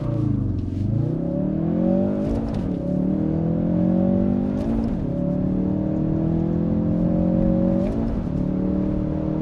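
A Hennessey HPE400 Ford Focus RS engine revs hard through repeated upshifts on a test drive, its tone climbing steadily, dropping at each of three or four gear changes, then climbing again, loud and close throughout.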